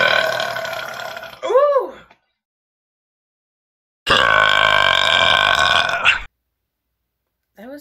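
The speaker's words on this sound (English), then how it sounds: "I don't like the low burps." Loud, close burps after chugging Dr Pepper: a short belch, a pause of silence, then a longer drawn-out one, and the start of another at the end.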